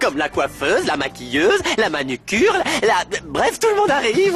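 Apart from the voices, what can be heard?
No distinct noise like a dog, phone or traffic.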